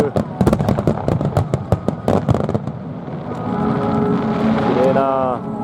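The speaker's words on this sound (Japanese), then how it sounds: "万博花火。 すごかった。" Expo fireworks launch and burst above the Grand Roof Ring in a rapid series of sharp cracks and booms, followed by a sustained rumble, with crowd voices talking throughout.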